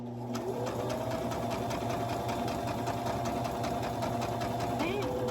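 A sewing machine runs steadily, stitching a pillow cover and going back over the seam with a back stitch; the motor hums continuously at close range, with faint talk beneath.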